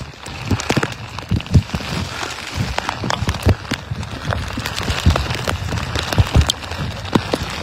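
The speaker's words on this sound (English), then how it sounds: "the rain is intensifying, the wind is a blowing" Heavy rain pounds surfaces during Hurricane Milton, a dense steady roar of drops with gusting wind and scattered sharp splashes and knocks throughout, loud and close with no talking.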